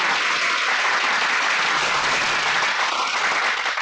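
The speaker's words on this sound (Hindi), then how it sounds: "बजाओ ताली" A political rally crowd claps loudly and continuously, a dense, even roar of hands filling the whole few seconds with no pause.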